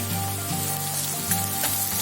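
Steady sizzling of carrots and onion frying in a hot pan, a continuous crackle with occasional louder pops and a low hum underneath.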